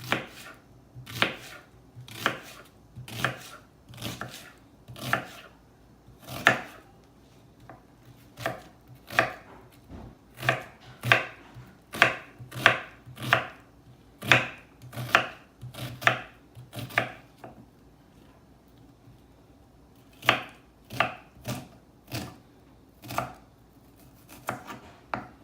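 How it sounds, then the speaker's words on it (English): A knife dices an onion on a cutting board in a home kitchen, with steady rhythmic chops that are crisp and close, broken by one brief pause before the chopping resumes. "So we're gonna dice the onion."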